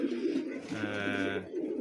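A racing pigeon just back from a 570 km flight coos nearby, a soft, low, rolling call rising and fading once amid quiet background murmur.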